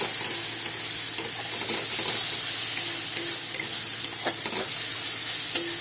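Spices with turmeric sizzle and fry in a pan for a rui fish curry while a utensil stirs them, producing a steady close-up hiss of hot oil broken by repeated scraping strokes, with no one speaking.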